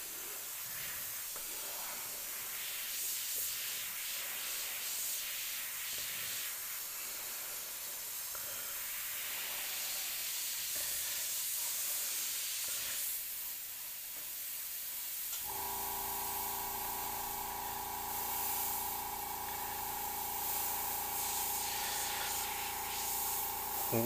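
An airbrush sprays paint while softening the hair on a portrait, giving a steady, close airy hiss that runs throughout and turns into a brighter, more tonal compressed-air hiss partway through.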